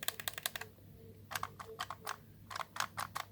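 Shoulder bumper button on an Xbox One controller being clicked repeatedly: quick bursts of crisp plastic clicks in rapid clusters, close and fairly quiet over a low steady hum.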